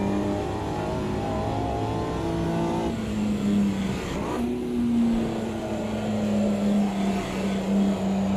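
A Mini Cooper races at Brands Hatch in Automobilista 2, its engine droning loud and steady under constant throttle, dipping briefly near the middle before rising back to a strong rev.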